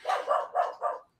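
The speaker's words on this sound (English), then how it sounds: "Sorry, that's my dog." A dog barks at window cleaners, four quick sharp barks in an even rhythm, fairly close and alone with no talk over them.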